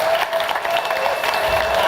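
Dense, steady audience applause and crowd noise welcoming a band on a TV show, a continuous wash of clapping from many people with faint cheering mixed in.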